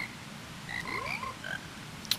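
Game frogs croak in a short sung sequence from The Legend of Zelda: Majora's Mask, several bright pitched croaks hopping up and down over a soft backdrop, ending with a sharp high chime.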